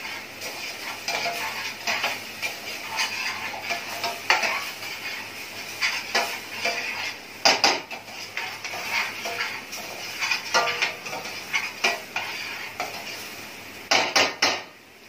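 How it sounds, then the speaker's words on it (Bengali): Chicken roast masala being slowly sautéed in a pan, with a spoon repeatedly scraping and clinking against the metal in an irregular rhythm, close and fairly loud, with no talking. "এখন আমি এটা একটু আস্তে আস্তে কষিয়ে নিব"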